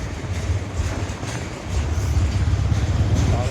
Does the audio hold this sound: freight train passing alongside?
yes